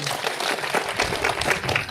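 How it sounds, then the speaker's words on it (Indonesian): A crowd at a Desak Anies event in Gorontalo applauds Anies Baswedan, a dense, lively patter of many hands clapping at once, fairly near and sustained across the moment. "Beri tepuk tangan dulu yang meriah untuk Bapak Anies Baswedan."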